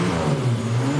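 A turbocharged Buick with an intercooled 1987 Grand National-style setup runs just after being fired up, a loud, close, steady engine note with a low throaty rumble and no talking.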